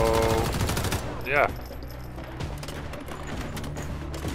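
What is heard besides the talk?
gunfire in Once Human video game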